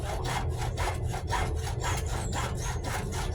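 A handsaw cutting through wood in steady back-and-forth strokes, about eight even rasping passes, close and moderately loud with no talking.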